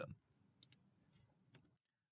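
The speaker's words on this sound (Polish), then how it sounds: "Klikam przycisk szukaj." Computer mouse clicking while a search button is pressed on screen: two sharp, close clicks in quick succession, then a fainter third click, over a quiet low room hum.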